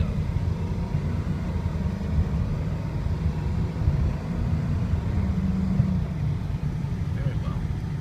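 A 2006 Ford F250 diesel pickup is driving, its low engine drone and road rumble steady and close from start to finish, with someone talking over it.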